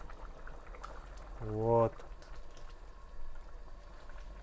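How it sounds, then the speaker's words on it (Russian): Water boils in a pot for Kyrgyz plov, a steady bubbling hiss that runs throughout at moderate level, with a short spoken word briefly over it. "Вот, друзья, варится вода. Вот так он должен кипеть где-то минут 10."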